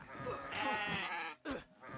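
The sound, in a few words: goats bleating and fighting in the video game Kenshi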